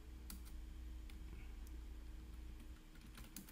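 Keys on a computer keyboard tapped while entering a ChatGPT prompt, a quiet scatter of light clicks over a low steady hum, faint and close with no voices.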